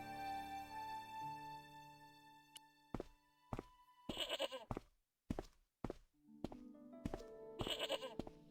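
A tethered goat bleats in the Broken Sword adventure game's Irish farmyard: a long, wavering, nasal cry up front, followed by several sharp thunks and knocks spaced irregularly, with brief bursts of scuffling.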